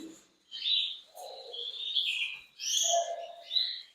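A small female canary of the Ágata elmo red-ivory mosaic type gives a few short, high chirps with soft lower warbles between them. The calls are close and fairly quiet, spread over a few seconds with brief pauses.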